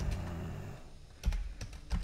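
Typing on a computer keyboard with an American layout, a soft steady patter at first, then a few sharper separate key clacks, close and quiet with no talk.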